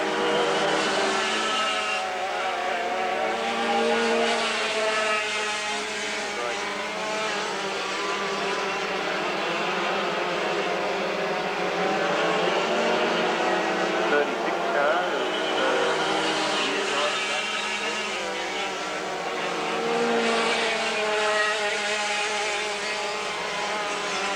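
Dirt karts racing around a track, a continuous buzzing chorus of small engines with overlapping, wavering pitches as several karts run together, a commentator talking over the racket throughout.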